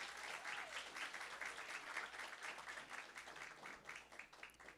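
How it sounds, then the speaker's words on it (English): Audience at a youth entrepreneurship challenge gives student competitors a round of applause, steady, moderately dense clapping heard from a distance that continues throughout at an even level. "let's give all of our student competitors another round of applause."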